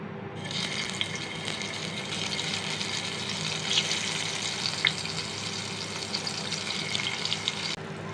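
Pointed gourd (potol) slices fry gently in a pan of lightly heated oil, giving a steady close crackling sizzle with a few small pops that continues evenly throughout.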